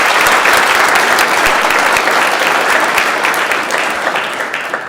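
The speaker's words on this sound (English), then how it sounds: "let's give a huge applause for Matthew Chen" Sustained applause from a legislative chamber audience at a state Senate floor session, loud and dense clapping that continues steadily for the whole stretch and tapers slightly toward the end.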